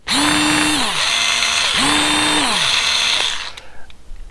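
A cheap electric screwdriver drives a screw into sheetrock, motor whine rising and falling in two long bursts with a ratcheting buzz, then stopping abruptly near the end. Close and loud, with no talk.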